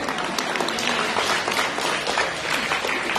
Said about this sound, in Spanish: así que un aplauso a los dos